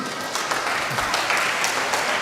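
An audience at a children's choir Christmas concert in North Point, Hong Kong, claps steadily, a dense burst of applause filling the whole stretch at a fairly loud, even level.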